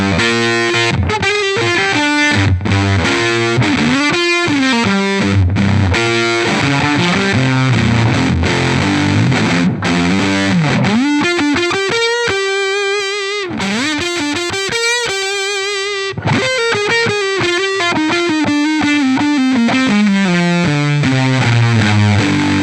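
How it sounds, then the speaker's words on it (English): Electric guitar run through a fuzz pedal into a Boss OD-3 overdrive pedal, playing a thick, saturated riff with sustained notes and sliding bends, loud and continuous with no talking. "using a more natural amp type overdrive pedal like the OD-3 after your fuzzes is a really great way to just reintroduce some mids to the sound"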